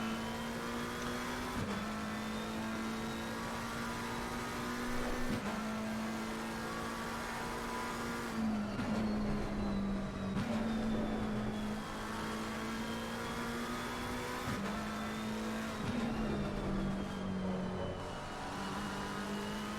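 A Ferrari race car engine in a racing video game holds a loud, steady high-pitched drone down the straight at Brands Hatch. The pitch climbs through the gears, with brief dips at each upshift, and there is no talk.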